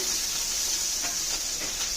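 A steady, even hiss of cashews and raisins frying in ghee fills the clip, with a few faint pops and crackles breaking through the constant sizzle.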